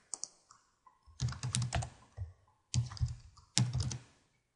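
Close-up typing on a computer keyboard as a task name is entered into a project planning grid, in short bursts of rapid key clicks separated by brief pauses, with no talking.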